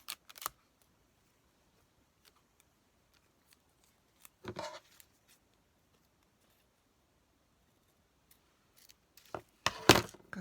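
Scissors snipping paper for a vintage ladies' fashion journal: a few short, crisp cuts at the start, middle and end, with near silence between them.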